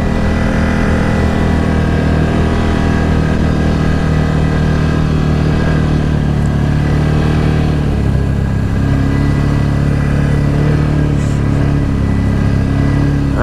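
A side-by-side ATV drives through woods on a sunny day, its engine a steady loud mid-pitched drone that runs continuously up close, with shifts in pitch as it works along small roads.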